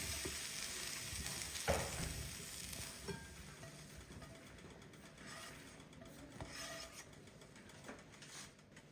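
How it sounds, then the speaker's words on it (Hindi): Cooked chicken being stirred into sauce in a pan for a chicken sandwich crepe, a faint, soft sizzle under irregular scraping and rubbing strokes of the utensil, with no talking. "अब चिकन और सॉस को मिक्स कर दें।"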